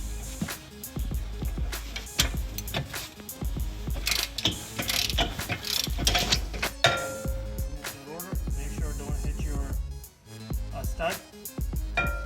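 A ratchet wrench loosens the rear brake bolts on a Ford Explorer during a pad and rotor job, giving rapid clicking runs in close bursts with short metallic clanks between them and someone talking over parts of it.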